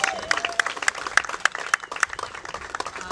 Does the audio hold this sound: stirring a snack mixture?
no